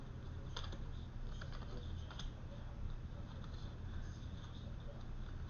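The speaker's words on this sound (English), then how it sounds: "Let's shuffle for water signs" Soft, irregular papery flicks and taps of tarot cards being shuffled, close by, over a steady low background hum.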